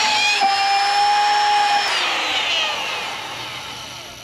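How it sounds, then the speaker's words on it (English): Cutoff tool cutting out a speaker hole, a loud close high whine that holds steady, then dips in pitch and slowly fades as the cut bogs down, with no talking. "Now we just need to grab our cutoff tool"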